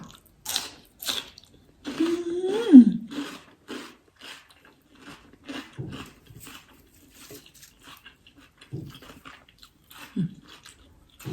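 Someone eats grilled chicken offal with the Isan chilli wrap, miang. Close, intermittent bites and crunchy chewing come with short pauses and soft mouth sounds in a quiet room.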